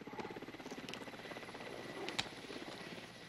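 Steady rhythmic chopping of helicopter rotor blades, fairly faint and distant, with a brief sharp knock partway through.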